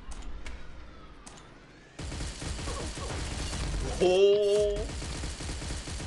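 Rapid gunfire from a Gatling gun in the shooter game Pixel Gun 3D crackles in bursts alongside electronic game effects and a rising synthetic tone, with a brief shouted exclamation partway through.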